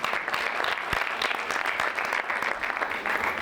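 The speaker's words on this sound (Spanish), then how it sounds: "le damos un fuerte aplauso por su viaje y por estar aquí" An audience at a human rights education session applauds, a dense, loud, continuous clatter of many hands clapping throughout.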